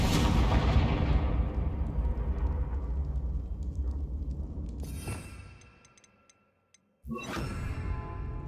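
Spell explosions in the Hogwarts Legacy video game: a heavy booming blast that rumbles and fades into near silence, then a second sharp burst that keeps crackling.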